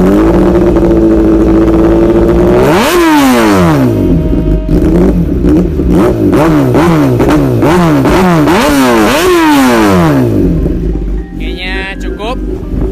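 Kawasaki ZX10R superbike fitted with a 34-million-rupiah aftermarket exhaust, idling loud and close, then blipped through a rapid series of sharp, rising-and-falling revs before settling back to a rumbling idle.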